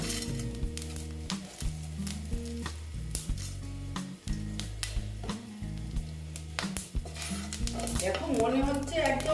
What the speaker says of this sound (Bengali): দেখো দুটো শুকনো লঙ্কা দিয়ে দিলাম তারপরে দিয়ে দিচ্ছি পাঁচ ফোড়ন